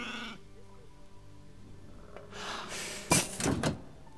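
Sheep in the video game Age of Empires III, with a few short bleats near the end amid faint game clatter and a brief knock-like sound.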